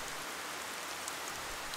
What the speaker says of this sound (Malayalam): അപ്പോഴും മഴ പെയ്തുകൊണ്ടേയിരുന്നു.